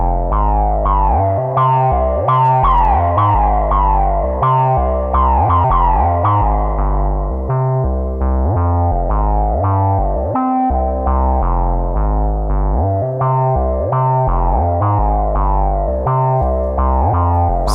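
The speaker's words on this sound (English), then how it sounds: "So we still get a really tasty, very resonant filter sweep" A resonant modular synthesizer tone pulses in rhythmic notes while its filter sweeps up and down, bright harmonics rising and falling over a steady low bass.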